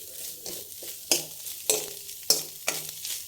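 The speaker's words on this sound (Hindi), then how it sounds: "थोड़ा हाई कर लेंगे, हाई करके थोड़ा चलाएंगे।" Chicken soup stirred in a pan on high heat: a spoon scrapes in about five regular strokes, each a sharp swish over a soft, steady sizzle, close and without talk.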